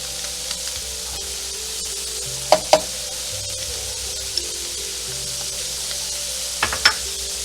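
Butter sizzles steadily in a hot pan of golden seared scallops, a continuous close hiss broken by a few sharp clinks and taps from a utensil, with no voices.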